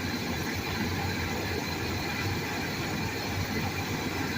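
Engine of a 1985 Chevrolet Suburban idling steadily, a continuous even rumble and hiss without knocks or ticks, close and moderately loud, with no talking.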